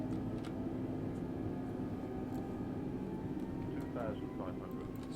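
An Airbus A320neo on landing approach in Microsoft Flight Simulator, a steady low engine drone and hum throughout, with a person talking quietly over it.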